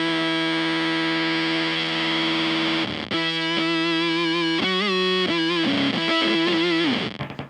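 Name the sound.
single guitar note through Beetronix Swarm octave fuzz pedal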